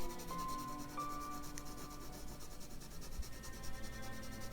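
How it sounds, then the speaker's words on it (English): A coloured pencil shades evenly and lightly across paper, giving a continuous soft, close scratching rub with small shifts in stroke. "Think about the sound that your pencil's making."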